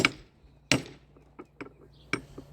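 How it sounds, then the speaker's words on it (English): A chisel is struck against a workpiece held in a table vise on a table that flexes slightly. Two loud, sharp metallic knocks are followed by several lighter taps, close and without talk. "I got a chisel over there."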